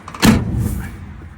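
A Ford F-150 pickup tailgate swings shut with one solid thud followed by a short rattling settle, close by, with no talking.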